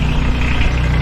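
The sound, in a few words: garden tractor engine running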